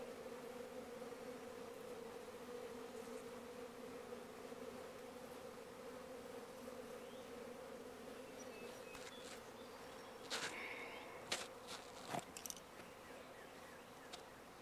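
A honeybee swarm buzzes steadily in the open air, a continuous droning hum with a few louder bees passing close near the end and no speech.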